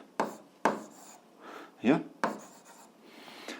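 A pen writes on paper while a physics problem is worked out: a few sharp taps and short scratching strokes in an irregular rhythm, close and fairly quiet, with faint room noise between them.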